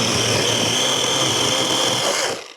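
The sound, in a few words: chainsaw cutting wood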